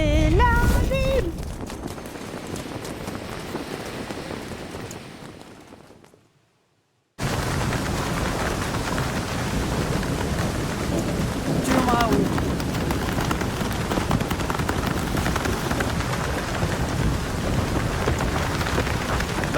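Steady rain pours outdoors with rumbling thunder mixed in, a loud continuous wash that cuts out briefly to silence partway through before resuming just as heavily.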